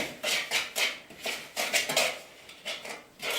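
A spoon works chocolate peanut butter pie dough around a bowl in rhythmic, close scraping knocks, about a dozen quick clinks of utensil against dish with brief pauses, no voices.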